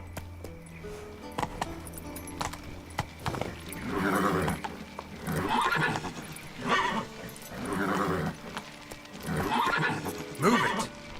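A horse in The Witcher 3 gallops in steady clip-clop rhythm and lets out several loud neighs in repeated bursts, close and clear over a faint game backdrop, with no talk.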